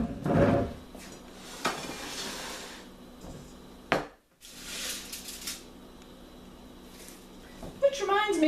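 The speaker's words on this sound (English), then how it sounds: "now what we're going to do is we're just gonna put them on the pan." Chocolate chip cookie dough is set onto a baking pan with scattered light clicks, taps and metallic clatter, close and fairly quiet.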